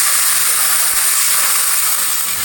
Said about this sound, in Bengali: আমি পেঁয়াজ দিয়ে দিলাম মাছ ভাজার তেলে